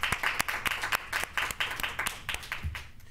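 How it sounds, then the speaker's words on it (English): Scattered applause at a school board of education meeting, a modest group clapping in uneven, individually audible claps that thin out and fade toward the end. "Big round of applause for those entries"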